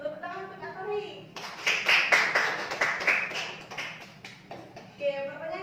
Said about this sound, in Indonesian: tepuk tangan untuk Kak Farid